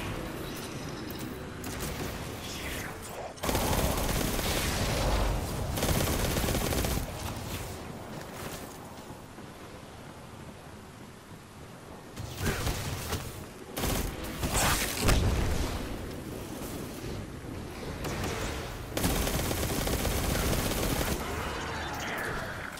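Submachine gun fire in Destiny 2, a weapon from The Forge, loosing several long rapid bursts separated by short pauses, loud and close with a dense rattling texture.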